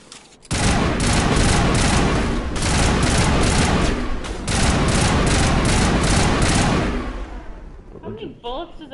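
Sustained heavy gunfire in Mass Effect, loud rapid automatic bursts firing in long volleys with brief pauses, then tapering off into quieter shots and scattered voices near the end.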